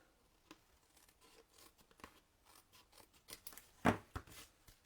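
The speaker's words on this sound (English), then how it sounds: "I'm going to trim this off with my little scissors." Scissors snip through paper in a series of short, crisp cuts, irregularly spaced and close up, the last few louder, with no talking.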